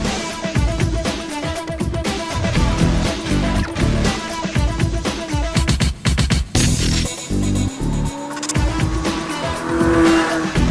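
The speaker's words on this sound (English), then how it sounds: "this thing drifts so nicely" Roaring 630-horsepower big-block engine in a Chevrolet C10 pickup truck, tires squealing and skidding as it drifts, loud and close, the revving rising and falling throughout.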